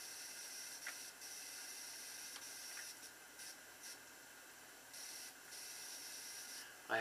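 A Crown King shavette razor scrapes against the grain over lathered skin, faint steady rasping strokes with short scratchy bursts, quiet and close.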